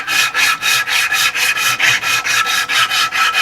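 A wooden canoe paddle shaft, built from scrap wood, is sanded by hand with a strip of belt-grinder abrasive, giving steady rhythmic rasping strokes about every third of a second, close and loud, with no talking.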